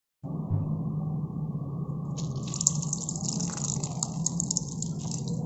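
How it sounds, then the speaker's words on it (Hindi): Water squeezed from salted fenugreek leaves pours and drips steadily into a vessel, a continuous close splashing trickle that starts abruptly and brightens partway through. "देखिए अब मैं इसका पानी निचोड़ लूँगी। देखिए इतना सारा पानी इसमें से निकल रहा है।"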